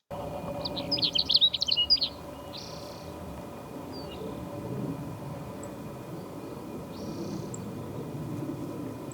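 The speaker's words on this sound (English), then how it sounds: "I heard Bell's sage sparrow, which is now called Bell's sparrow." A short burst of bright, chirpy Bell's sparrow song up close near the start, then a few faint calls over a low steady background rumble, in desert habitat along the Pacific Crest Trail.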